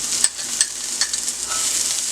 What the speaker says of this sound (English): I'm just going to add some garlic to that